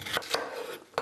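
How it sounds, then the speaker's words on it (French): A knife slices vegetables on a diagonal for a sautéed summer vegetable and tofu dish, giving three crisp, close cuts about a third of a second apart, with a quieter gap before the last one. "on peut les trancher un peu à la diagonale"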